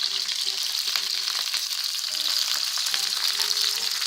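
Sliced peppers and chorizo sausage fry in a pan over lowered heat, giving a steady, close sizzle with faint stirring scrapes and no voices.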